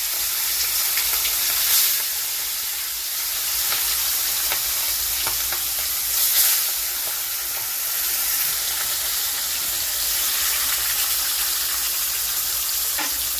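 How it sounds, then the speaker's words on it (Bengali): Rohu fish pieces fry in hot oil in a wok, giving a steady, close sizzle and hiss that swells briefly in a couple of louder bursts, with no talking. "এবার আমি মাছগুলোকে ভেজে নেব। তো এক এক করে আমি মাছগুলোকে দিয়ে দেবো এর"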